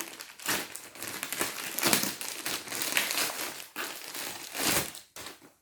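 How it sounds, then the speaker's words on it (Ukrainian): Close, loud crinkling and rustling of plastic parcel packaging on a taped box being unpacked, in irregular bursts, with brief pauses between handlings. "Зараз постараюся не сильно шуршати вам."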